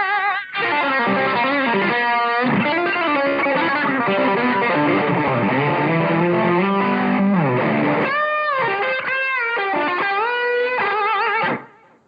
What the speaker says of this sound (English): That fuzz trick just makes it sound like the amp's on the edge of blowing up